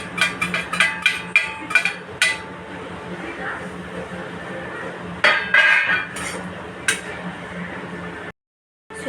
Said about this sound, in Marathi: पहिल्यांदा मी सुकट भाजून घेते.